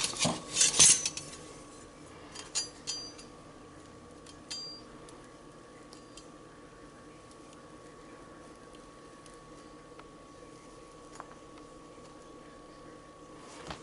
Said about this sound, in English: And then we gently peel cake away. I'm going to use a spatula.